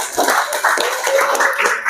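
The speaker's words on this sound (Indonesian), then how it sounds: "tepuk tangan" Classmates in a school lesson clap together for a student group's answer: a short burst of dense, steady clapping lasting about two seconds at moderate loudness, with faint voices mixed in.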